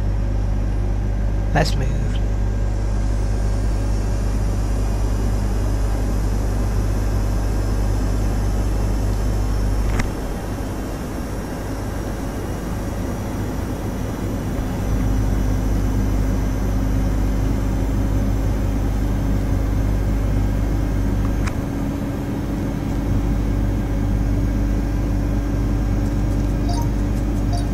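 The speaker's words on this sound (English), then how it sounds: "Applying takeoff thrust." Boeing 727-200 jet engines spooling to takeoff thrust in Microsoft Flight Simulator X, a steady loud rumble with a rising whine under a short spoken line.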